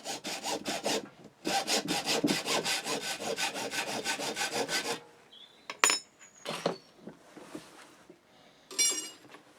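A saw cuts a crossbow bolt to length in quick, even back-and-forth strokes, loud and close, then stops, followed by a few scattered clinks and rubbing sounds with no talking.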